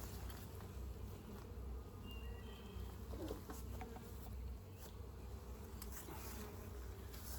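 Honey bees in a resource hive make a low, continuous buzzing drone that stays steady and fairly faint, with no talk over it.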